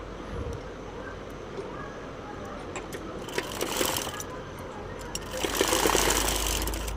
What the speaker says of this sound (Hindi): इस तरीके से मैं यहाँ पे सारे लटकन सिल लूँगी।